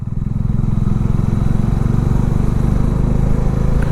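A Bajaj adventure motorcycle on a ride gives a steady, close engine drone with a low rhythmic thrum and wind, holding an even pace throughout, with no talk.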